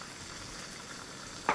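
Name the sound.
egg sizzling as it fries in buttered pan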